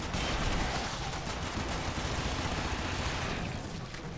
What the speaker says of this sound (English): I love this machine gun.